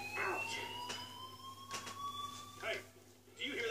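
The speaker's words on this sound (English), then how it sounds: "Hey, do you hear that fire alarm?" A fire alarm in the video game Life is Strange rings at moderate level: a steady, high electronic tone runs throughout, with faint footsteps and bumps underneath and quiet room noise.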